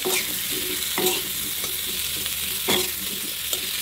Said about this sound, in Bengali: এই মূলাটাও আমি এভাবে লবণ হলুদ দিয়ে তেলে ভেজে নিচ্ছি